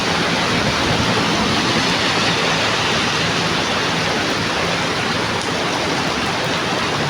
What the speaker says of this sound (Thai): ฝนตกนะครับที่กรุงเทพตกหนักมาก